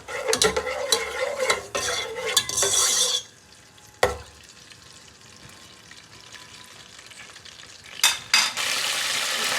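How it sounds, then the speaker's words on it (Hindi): Fennel seeds sizzle and crackle in hot oil in a pan, with busy stirring and utensil scrapes at first. The sizzle fades to a quieter hiss, then a sharp clank and more stirring and frying toward the end. "सौंफ ने कड़ाके निकाल लिए हैं अपने"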